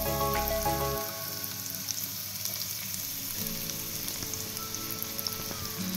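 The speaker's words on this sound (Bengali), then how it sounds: "পেঁয়াজগুলো আমি এবার উল্টে পাল্টে কিছুক্ষণ সময় ধরে ব্রাউন কালার করে ভেজে নেব" Sliced onions fry in hot oil left from frying chicken, a continuous close crackling sizzle with a louder burst at the start, then an even spattering hiss with no voices.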